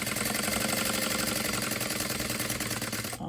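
A sewing machine back stitches a mini tote bag, a fast, even mechanical chatter of needle strokes running continuously and close before stopping abruptly at the end.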